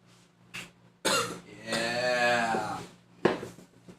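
A person coughs in a harsh, drawn-out fit lasting around two seconds, with a few shorter coughs or throat noises before and after, close to the mic.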